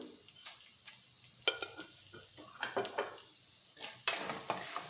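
Coriander and cumin seeds roasting dry in a pan, a soft crackle with small popping ticks and the scrape and rattle of stirring, quiet and close.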